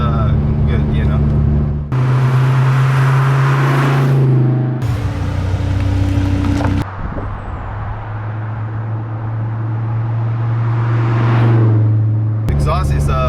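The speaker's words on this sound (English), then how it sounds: "Exhaust is a Borla catback exhaust, and you have to have an exhaust because for some reason it just doesn't give you the sound of the V10." Car with a V10 engine and Borla catback exhaust, heard as a deep steady drone that shifts pitch in segments with abrupt cuts between them, loud and close, with talking at times.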